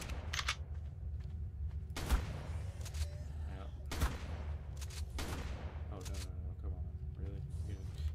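Gunshots in the survival game Ark on the Fjordur map, two sharp loud blasts about two seconds apart with a few lighter crackles between, over steady game ambience.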